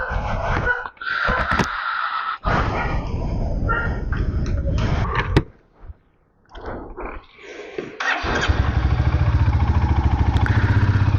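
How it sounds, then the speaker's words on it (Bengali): A motorcycle starts at the beginning of a ride, with handling clatter and rumbling engine noise, a brief near-silent gap, then a steady close idle rising into a continuous engine drone. "এই আমার বাইক দাঁড়িয়ে আছে তো এখন রাইড স্টার্ট করব"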